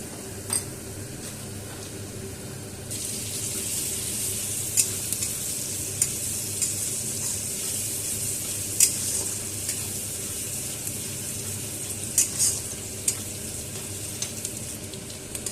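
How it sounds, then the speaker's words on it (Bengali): Chopped onions sizzle in a pan for fried rice. After a few seconds the steady frying hiss swells louder, and the occasional clink and scrape of stirring comes through, with no voice. "কিছুক্ষণ এটা ফ্রাই হয়ে যাওয়ার পরে আমি দিয়ে দিচ্ছি এবারে কুচনো পেঁয়াজ।"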